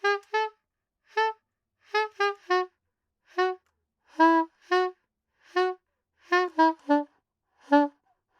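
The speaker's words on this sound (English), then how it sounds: "If I didn't use my tongue to articulate and I just separated the notes with breaths" Close saxophone notes play a bouncy bass line, each one softly started and parted by brief breath gaps rather than crisp tongued attacks.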